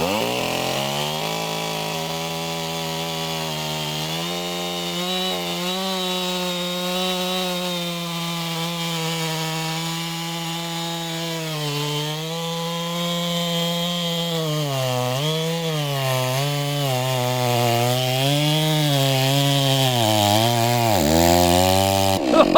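A chainsaw cuts along the grain of a log, running loud and close without a break, its engine pitch rising and falling under load throughout.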